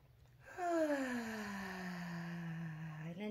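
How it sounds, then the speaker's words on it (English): A single slow breath during a guided meditation, drawn in audibly and then released in a long, soft, airy exhale that fades gradually, close and quiet with no talk. "breathing in through the nose and out through the mouth"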